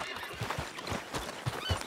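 Horse in Red Dead Redemption 2, soft hoof clops and a faint whinny in a short quiet burst, with low background ambience.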